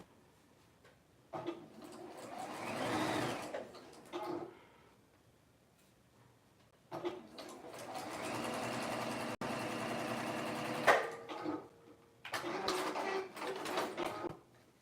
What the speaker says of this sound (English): So I'm gonna sew this part now.